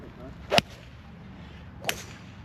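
Golf club striking a ball during a swing on a course in Turkey: two sharp, close impacts about 1.3 seconds apart, the first louder, each a crisp snap over quiet outdoor background.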